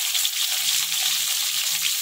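Pieces of katla fish fry in hot oil with a steady, close crackling sizzle that continues evenly throughout, with no voices.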